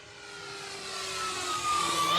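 E-flite Commander mPd RC airplane flying slowly overhead, its electric motor a steady rising drone that grows louder as it approaches, heard alone without talk.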